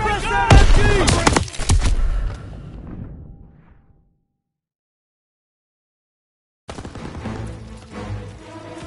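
Rapid bursts of machine gun fire from a pillbox in Call of Duty, loud and close for the first few seconds with shouted voices among the shots, fading to silence before battle noise returns.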